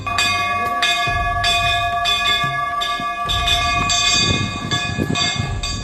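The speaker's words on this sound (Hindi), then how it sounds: "भक्त ऐसे ही घंटी के नीचे हाथ ऊपर करके खड़े हो जाते हैं और घंटी बजने लगती है" A temple bell in Mandsaur, India, with an automatic sensor, rings loudly and close, struck again and again in quick irregular succession, its metallic tone ringing on over a murmuring crowd.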